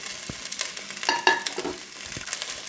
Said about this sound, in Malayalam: നെക്സ്റ്റ് നമ്മൾ കൊച്ചുള്ളിയാണ് ഇടുന്നത്.